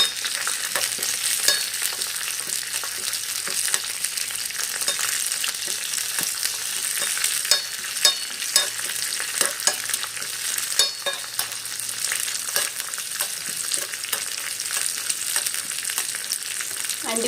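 Raisins fry in ghee in a hot pan with a continuous close crackling sizzle, dotted with sharp pops and occasional stirring scrapes, and no speech throughout.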